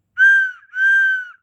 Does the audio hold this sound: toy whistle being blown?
yes